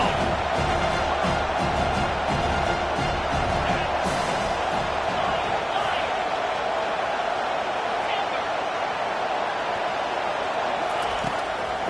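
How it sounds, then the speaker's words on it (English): Home crowd roaring in a stadium at a TCU vs Alabama college football game on third down, a dense, loud, sustained wash of cheering and noise that stays steady throughout, with talk in the mix. "Here comes this home crowd as the defense tries to get off the field on 3rd down"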